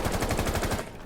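A single fast burst of automatic gunfire from a video game weapon spray, rapid evenly spaced shots for under a second, then it cuts off into a quieter tail.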